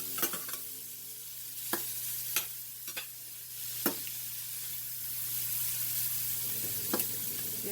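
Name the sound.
shrimp frying in a pan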